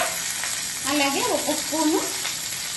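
Garlic and curry leaves frying in a pan, a steady close sizzle with a few bright crackles and a spoon scraping through the pan, while someone speaks briefly over it.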